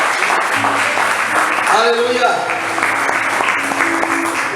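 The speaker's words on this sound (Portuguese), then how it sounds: "Vamos aplaudir o Senhor." Church congregation clapping for the Lord at a Monday service, a steady mass of applause running throughout, with voices calling out over it.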